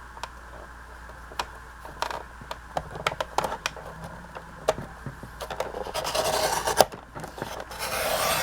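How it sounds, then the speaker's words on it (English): A paper cutter trims a sheet of paper for a steampunk craft journal page, with light scraping, rasping strokes and small ticks, getting denser and louder toward the end, with no talk. "I want to get this a little bit smaller than paper, so I'm bringing out my cutter here."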